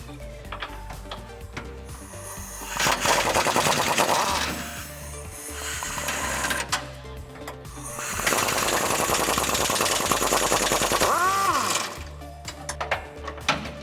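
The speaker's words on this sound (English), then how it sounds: "we're going to remove the two 18 millimeter nuts on the outer side right behind the step in the rear bumper" Impact or ratchet wrench loosening the two 18 mm nuts behind the step of a 2007-2018 Chevrolet Silverado 1500 rear bumper, two loud rattling bursts of a few seconds each with quieter workshop clatter between them.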